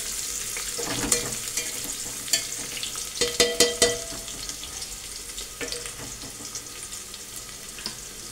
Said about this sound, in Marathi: कांदा झालाय ब्राऊन कलरवरती भाजून